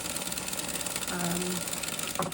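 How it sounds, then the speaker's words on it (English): A White model 1563 sewing machine runs while winding the bobbin, giving a steady mechanical whir and rhythmic clatter up close, with a short tonal hum partway through. "So that's how you wind the bobbin, which is awesome."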